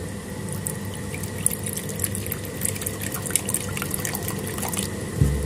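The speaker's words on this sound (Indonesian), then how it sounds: "teman-teman jangan lupa untuk tempat minumnya ini dikasih air ya" Water trickles and drips into a drinking dish in an emperor scorpion enclosure, a soft, steady pour with small splashes heard close up and alone.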